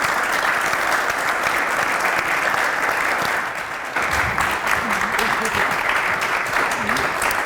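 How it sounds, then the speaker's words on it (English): A studio audience at a talk show applauds steadily, with dense clapping and some crowd noise throughout. "A round of applause, please."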